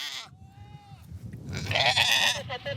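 Goats on a cashmere farm in Mongolia's extreme desert bleat in short, nasal calls. A drawn-out call comes first, and overlapping bleats from the herd follow at close range.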